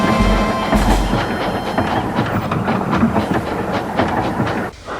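Railway coaches rolling along track toward a station platform, a steady rumbling with rhythmic clicks and clanks that stays loud and continuous, then drops away abruptly near the end.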